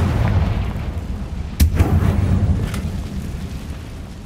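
Confringo spell explosion in the Hogwarts Legacy video game: a single sharp, booming blast that cuts through a low steady rumble, then decays into the background.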